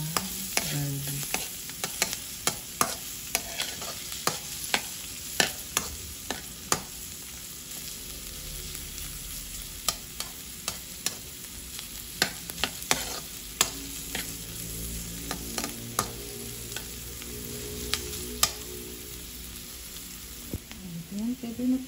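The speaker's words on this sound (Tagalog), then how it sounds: "Ito din natin hanggang mag-brown ang garlic." Garlic browning in oil in a pan for pork hamonado, a constant close sizzle punctuated by frequent clicking taps and scrapes of a spatula stirring.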